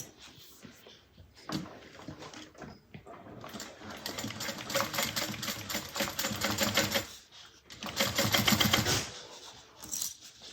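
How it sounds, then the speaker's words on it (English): A sewing machine stitches a quarter-inch seam on a fabric bag, running in bursts of rapid rhythmic clatter with short pauses between runs, close and moderately loud. "we're going to sew down this side at 1/4 inch seam allowance"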